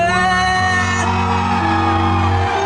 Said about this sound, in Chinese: 希望你们用你们的声音